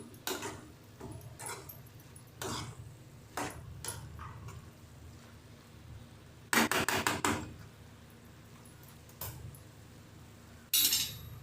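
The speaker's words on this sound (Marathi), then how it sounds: "आपण बाहेर झाकण उघडून बघूया शिजले का भाजी" Clinks and taps of a metal lid and spoon on a pan as spicy okra curry is uncovered and stirred, with scattered sharp knocks and two brief bursts of clatter over a low kitchen hum.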